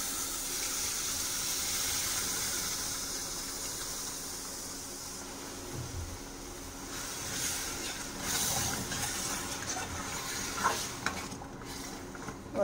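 Yogurt is stirred into pahadi kadhi in a pot, producing soft wet scraping and sloshing with a faint sizzle, steady and close with occasional louder clinks near the end.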